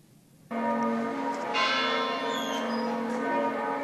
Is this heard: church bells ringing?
yes